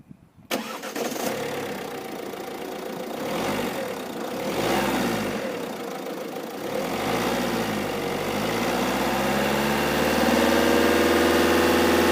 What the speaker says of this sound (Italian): si riesce a mettere in moto la macchina